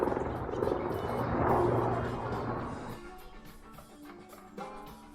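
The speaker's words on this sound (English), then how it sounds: "It's a Coast Guard helicopter." A Coast Guard helicopter drones overhead, its rotor noise rising and fading as it passes, with wind and outdoor rumble around it near a golf course.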